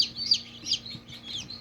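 Young chicks chirp and cluck in quick high bursts, close and fairly soft, repeating several times over a quiet background.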